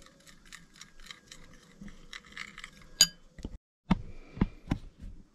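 Honey, soy sauce and lemon juice being stirred in a bowl on a boat, a spoon clinking and tapping against the bowl in an irregular run of light knocks and a few sharper hits.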